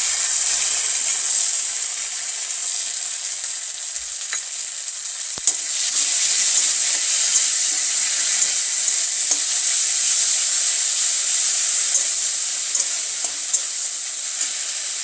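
Ginger, garlic and dry chili paste frying with browned onions for a fish curry, a loud steady high hiss of oil close up, nearly unbroken for the full length with a few faint clicks of stirring and no talk.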